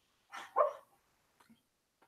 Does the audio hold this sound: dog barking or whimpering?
yes